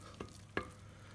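Rich chocolate cake batter being mixed in a bowl produces two short, soft scraping strokes, faint and close, separated by quiet.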